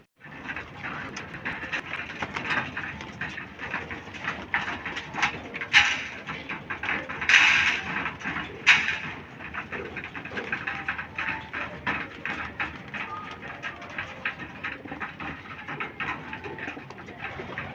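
Racing pigeons arriving at a loft, soft cooing and wing flutters amid a steady busy outdoor background, with a few brighter chirps standing out around the middle.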